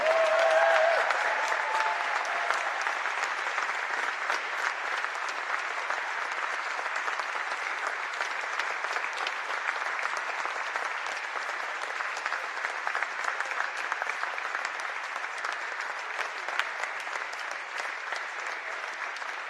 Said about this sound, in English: Everyone, please give a round of applause for the Jim Smith Pencil family.